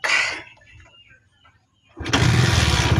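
A Bajaj CT100 motorcycle with a stock four-pin CDI fitted is started after a few faint cranking noises, then catches and runs loud and close with a steady rough idle.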